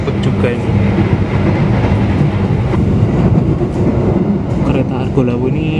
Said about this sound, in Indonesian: Kereta Argolawu ini bablas di Kutoarjo.